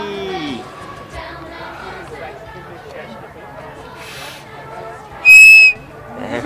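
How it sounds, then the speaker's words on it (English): A Thomas the Tank Engine toy whistle gives one loud, shrill, piercing blast near the end at a railroad museum outing, cutting over the chatter and voices of people nearby. "Is that your Thomas whistle?"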